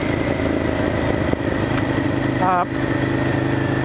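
A 2000 Ducati M1100 Evo with an air-cooled engine drones steadily while being ridden, a continuous mid-pitched engine hum with a brief higher warble near the end.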